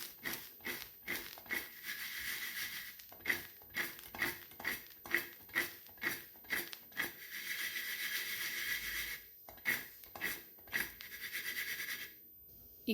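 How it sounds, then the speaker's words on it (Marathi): Spatula scraping and tapping in a pan as salt and turmeric are stirred into cluster beans being dry-roasted without water, a rhythmic series of sharp clinks and scrapes repeating roughly every half second, close and fairly quiet, with a brief pause near the end. "आणखीन याला थोडंसं मिक्स करून घ्या."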